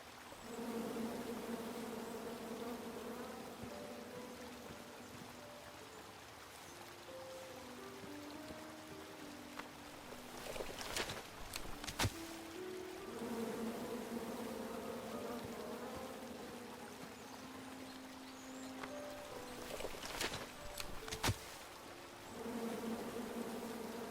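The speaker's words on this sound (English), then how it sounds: "Come at me, bees!" Buzzing bees in the King's Quest video game form a steady, continuous drone of layered tones throughout, with a few brief sharp sound effects cutting in near the middle and toward the end.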